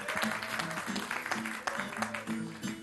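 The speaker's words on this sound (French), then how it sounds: "arrêtez d'applaudir" Audience applause at a French-language show, a dense steady patter of clapping with a voice speaking over it throughout.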